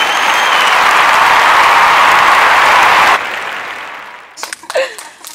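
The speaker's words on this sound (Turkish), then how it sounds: "Bir alkış alalım Azra'ya." An audience at a home visit applauds a girl named Azra, a dense burst of clapping that holds steady for about three seconds, then tapers off into a few scattered claps and faint voices.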